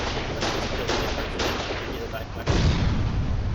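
Gunfire in a video game is aimed at the gate of a base, with rapid repeated bursts of shots that continue without a break, loud and close, over a constant background roar.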